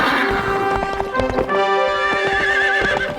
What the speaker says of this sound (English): These horses are more athletic.